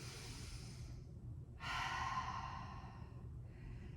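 Slow, close breathing during a Pilates floor stretch: a soft exhale, then a fuller audible breath out, and a quieter breath at the end, over a low steady room hum.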